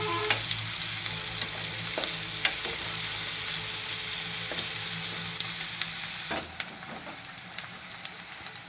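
Chopped onions sizzle steadily in hot oil in a pan, a continuous close frying hiss with a few stirring clinks.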